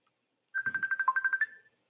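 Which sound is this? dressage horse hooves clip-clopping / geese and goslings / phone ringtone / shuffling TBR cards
phone ringtone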